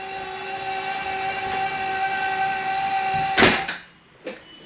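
A bunk latch on an XLR Hyperlite 3212 toy hauler clicks into place with a sharp, close snap, then a softer second click, over a steady droning hum.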